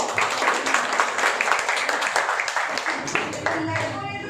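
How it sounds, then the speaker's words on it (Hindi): Crowd clapping at a Teachers' Day event organised by students, rapid scattered claps forming steady applause at moderate distance throughout, with a voice speaking over it. "इसलिए जोरदार तालियां हो जाए"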